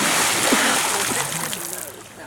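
A person diving into cold water outdoors makes a splash and sloshing, with the water churning on as a voice talks over it.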